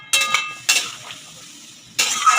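Poppy seed paste being stirred with water in a bowl, with a few short, wet scraping and clinking strokes separated by brief pauses.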